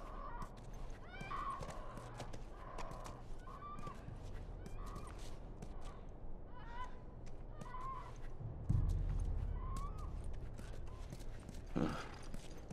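Hooves clip-clop steadily from a horse in The Last of Us, heard under a busy game soundscape with crow caws and bird calls, plus a louder thump near the end.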